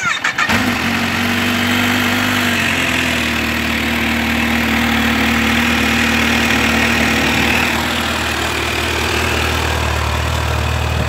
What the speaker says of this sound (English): Can I hear the run? Can I hear the motor?